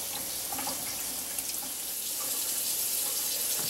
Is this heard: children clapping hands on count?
no